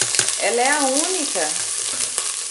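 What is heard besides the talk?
garlic browning in a Philips Walita electric pressure cooker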